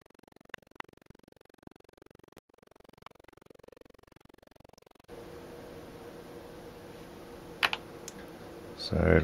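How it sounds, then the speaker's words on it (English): Rapid clicking of a computer keyboard as a code is typed in, a run of light keystrokes that continues over a steady fan-like background hiss, with a few louder taps near the end. "try and type this code in"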